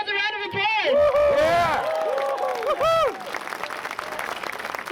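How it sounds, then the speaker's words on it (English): Applause and cheering from a large crowd at an outdoor protest march in Auckland, a loud burst of clapping with voices over it that carries on through the whole stretch. "Give yourselves a round of applause."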